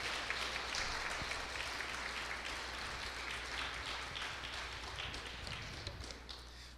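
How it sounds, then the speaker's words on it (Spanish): A church congregation applauds together, a dense, continuous wash of clapping that stays steady and fairly loud before easing off slightly toward the end. "Les podemos dar un aplauso a todos ellos."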